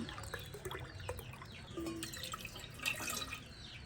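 Water is poured into a cooking pot with rice for a Jaffna-style meal, a soft, close trickle and splash with scattered drips, fairly quiet and without talking.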